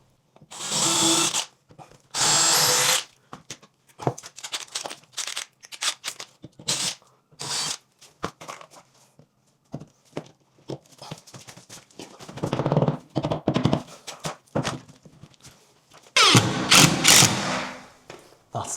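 Power drill driving 70mm screws into Fisher plugs in hollow plasterboard during a staircase remodel, with repeated short bursts of whirring and ratcheting, separated by pauses and clicks, moderately close.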